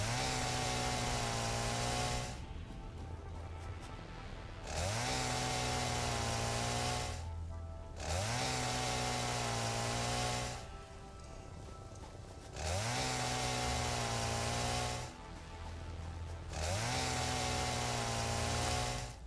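Chainsaw in the video game Satisfactory, its engine revving in repeated bursts of two to three seconds with brief idling drops between them, loud and steady throughout.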